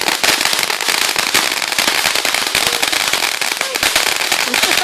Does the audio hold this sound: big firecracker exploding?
yes